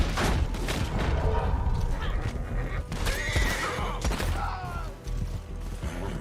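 A horse whinnies loudly in Red Dead Online amid continuous in-game clatter, hooves and mechanical creaks, a long, wavering neigh rising near the middle.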